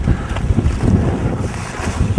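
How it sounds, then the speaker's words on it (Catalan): Wind sweeps across a high Himalayan mountain ridge near the summit, a loud, continuous buffeting roar with gusty low rumbles and no voices. "i s'ha girat una mica de vent."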